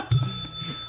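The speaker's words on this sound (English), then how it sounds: "every time a dick joke is said, they ring a bell" A small bell rings once on a radio show after a joke, a bright, close metallic ding that sounds clearly and then fades out with a ringing tail.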